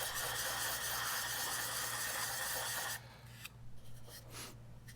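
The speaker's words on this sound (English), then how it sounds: "I love this sanding symphony" Steady, close rasping as a scratch-built plastic model part is sanded to bevel a corner, stopping after about three seconds and followed by faint handling noises.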